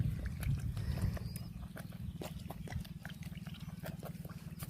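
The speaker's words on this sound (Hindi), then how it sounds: "देखो ये बहुत तकप तकप तकप तकप तकप करके खाता है।" A goat eating up close, a rapid rhythmic series of wet chomping and smacking chews continuing steadily throughout, low and fairly quiet with no talk.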